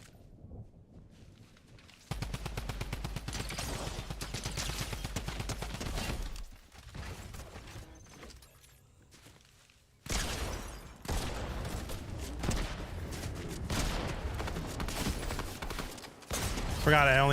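Video game gunshots, rapid bursts of sharp gunfire in several loud sections broken by quieter stretches, with players chatting over the action.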